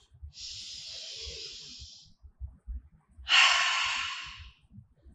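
Two heavy, breathy exhalations during a weights workout, the second louder and sharper, with quiet soft thuds and movement between them.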